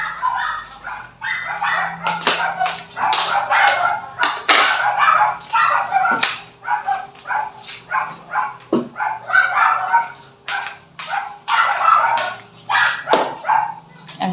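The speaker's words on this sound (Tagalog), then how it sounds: "Ang ingay-ingay ng mga aso sa labas." Several neighbourhood dogs bark outside, a busy run of repeated yaps and barks in uneven bursts, moderately loud and slightly distant, with a steady low hum underneath.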